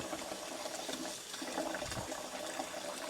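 Warm tap water runs steadily over a glass jar being scrubbed with soap in a kitchen while fresh peppers are preserved, a continuous close splashing wash with no talking.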